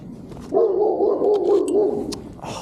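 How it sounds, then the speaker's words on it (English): A dog close by gives a drawn-out, wavering vocal sound like a long whining bark that lasts about a second and a half, with quieter room noise before and after and no talking. "Why is there a dog here?"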